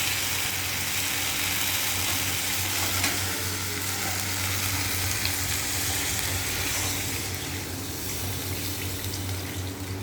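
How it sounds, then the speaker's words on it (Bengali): Water poured into a pan of sizzling, fried spiced curry masala for an egg curry, giving a steady loud hiss and bubbling sizzle that carries on evenly throughout, with no talking. "এবার জল দিয়ে দেবো।"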